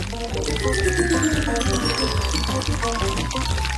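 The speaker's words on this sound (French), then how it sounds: "je prends la bouteille. Et je verse toute la pâte" Pink batter pours steadily from a bottle in a kitchen, a continuous liquid stream with a rising fill tone, loud and close with speech over it.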